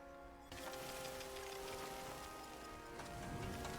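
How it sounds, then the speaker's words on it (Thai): Rain starts abruptly in the It Takes Two video game and becomes a steady, moderately loud hiss of falling drops that continues to the end. "ฝนตก"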